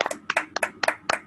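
A few people clapping on an online video call, sharp separate claps in an uneven rhythm, close and fairly loud, with no voices.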